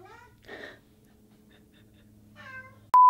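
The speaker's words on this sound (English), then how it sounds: "The cat wants to play fetch." A cat meows twice, a short faint cry near the start and a longer one near the end, over a quiet low hum, then a sudden loud steady electronic tone cuts in.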